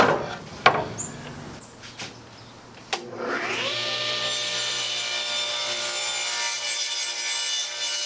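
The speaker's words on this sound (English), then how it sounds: "is we're going to cut it right down the middle." A mahogany board sawn down the middle: a few knocks and handling sounds, then a power saw spins up with a rising whine and cuts steadily and loudly through the wood.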